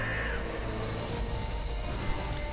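A raven caws over a constant rumbling background in the game Darksiders 2, brief and partly buried in the mix.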